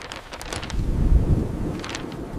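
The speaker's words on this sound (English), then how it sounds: "The wind is quite strong today." Strong wind gusts through a city street, a steady rushing roar with low buffeting surges that swell in the middle and ease off, heard close and alone.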